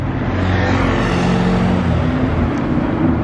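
A McLaren P1 supercar drives past, a loud, dense engine roar that swells and holds for a few seconds with broadband road noise, close by and without speech.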